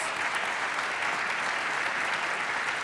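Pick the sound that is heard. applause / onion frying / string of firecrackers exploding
applause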